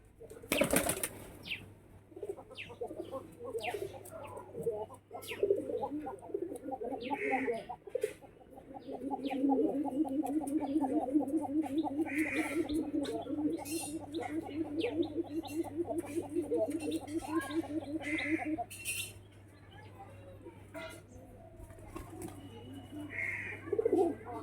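Pigeons coo repeatedly in a loft, a close, throaty rolling call that swells and repeats for several seconds at a time, with brief wing flaps and other bird calls around it.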